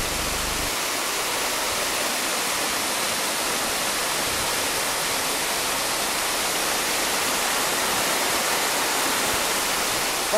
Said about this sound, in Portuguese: Wasserfall, é assim que se diz a queda d'água.